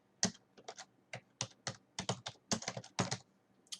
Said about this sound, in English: So I'll type in an example of street address.